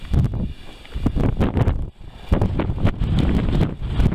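Strong wind on a foggy, icy mountain in the Presidential Range, buffeting the microphone in loud irregular gusts with a brief lull partway through.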